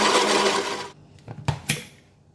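A blender whirs steadily while grinding laksa paste ingredients with water, then cuts off after about a second, leaving a few sharp knocks and taps.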